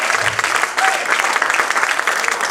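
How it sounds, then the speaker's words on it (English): A church congregation claps hands in worship during a sermon, a dense, steady patter of many hands close by, filling the short moment without speech. "I dare somebody to get up and just clap their hands and just praise the Lord."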